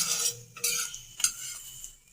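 Faint scraping and sizzling come from an aloo gobhi paratha folded over and cooking on a pan, with a few short utensil scrapes and rustles against soft frying.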